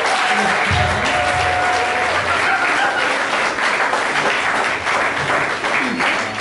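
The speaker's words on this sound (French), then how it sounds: "sous vos applaudissements." A church congregation applauding, a dense, sustained round of many hands clapping in a large room, steady and loud, with a few voices faintly audible underneath.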